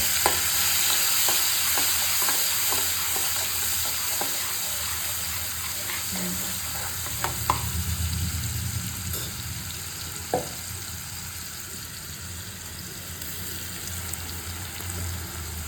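Garlic and chopped tomatoes fry and sizzle in a pan over a low flame, a steady close hiss with occasional stirring clinks and scrapes throughout.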